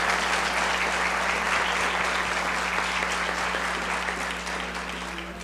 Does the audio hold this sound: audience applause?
yes